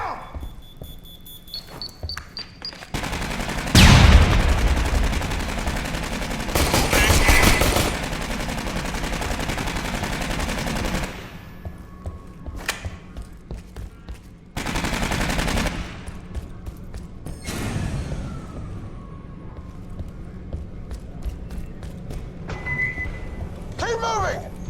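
Heavy gunfire in the game Aliens vs Predator, Battle for Sulaco mission, with loud bursts of automatic fire and blasts amid chaotic battle noise, while voices call out orders over the shooting.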